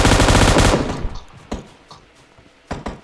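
Gunfire in the PUBG Mobile battle royale game: a dense rapid burst of automatic shots for the first second, then scattered single and paired shots at varying distances, no talk.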